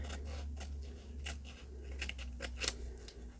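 Scissors snip through paper for a coffee journal, a quick series of crisp, close cuts over a quiet low hum.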